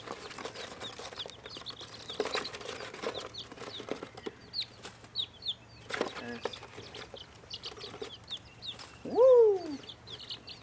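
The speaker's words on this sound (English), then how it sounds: "So these are the first batch of chickens." A first batch of baby chicks peeps softly in scattered short chirps, with occasional flapping and rustling close by in a quiet setting.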